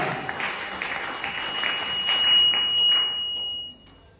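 A church congregation at a Sunday service bursts into applause and cheers for the Lord, a loud wash of clapping that swells and then cuts off, with a sustained electronic tone sounding partway through.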